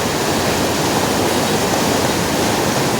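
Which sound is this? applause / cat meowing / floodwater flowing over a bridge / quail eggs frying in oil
floodwater flowing over a bridge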